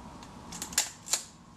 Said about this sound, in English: you can set it to R and then engage the shutter again